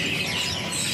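Cucak hijau (green leafbird) songbirds kept for sale sing together in a dense, high, continuous chatter of overlapping chirps and trills.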